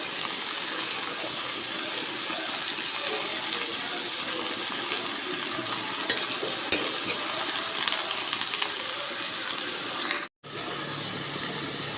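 Continuous hissing sizzle of leafy greens stir-frying in a wok, close and steady, with a couple of sharp clicks and a brief cut near the end.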